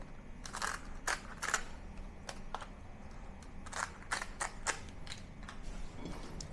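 Brittle dried bean curd skin being cut into small squares, a series of quiet, sharp crackling snaps and crunches in irregular bursts over a soft background.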